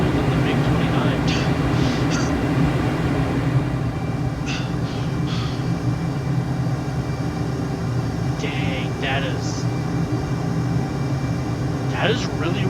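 Su-35 fighter jet roaring steadily in Microsoft Flight Simulator, a constant loud engine drone throughout with a voice talking briefly over it.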